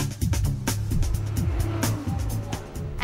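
Mercedes SLS AMG GT race cars roar past one after another at the Dubai 24-hour endurance race, engines revving and shifting through gears, loud and close with overlapping pass-bys and brief tire noise.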